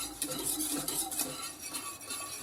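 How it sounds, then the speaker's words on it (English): Lemon curd being whisked in a pan, a soft continuous scraping and light clinking of the whisk against metal, quiet and close, with no talk. "just keep an eye on it and keep whisking away"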